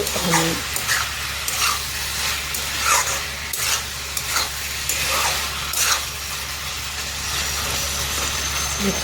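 Potatoes and mixed vegetables fry for a Bengali-style village fish curry, a steady close sizzle broken by repeated scraping stirs of the spoon through the pan, with a low hum underneath.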